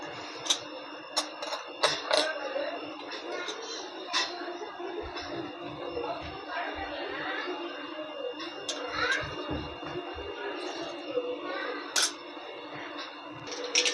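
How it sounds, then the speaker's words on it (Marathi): Mustard seeds sputter and pop in hot oil: a steady run of sharp, irregular crackles and clicks over a low sizzle, close by, with no talking. "आता मोहरी तडतडली"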